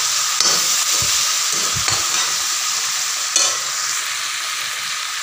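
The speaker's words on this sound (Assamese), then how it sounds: "এতিয়া মই ঢাকনখন আঁতৰাই অলপ সময় লৰাই দিম গেছত" Raw banana curry sizzles steadily in a pan on a gas stove while a spoon stirs it, with a few soft scraping knocks against the pan over a constant hiss of frying.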